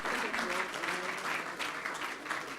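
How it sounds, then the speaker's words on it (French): An audience applauds a prize winner on stage at the Prix Jeune Espoir 2015 ceremony, a short burst of steady, moderately close clapping with a few voices underneath. "Et les applaudissements du public."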